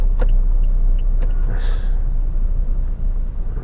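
Road traffic in congested Wiyung, a steady low rumble of car engines heard from close by, with faint passing vehicle noise on top.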